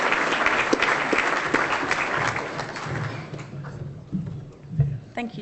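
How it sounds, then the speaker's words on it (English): Audience applause at an awards ceremony for a football medal presentation, dense clapping filling the room for several seconds before thinning out into scattered claps and some low voices. "Give Tash a round of applause here."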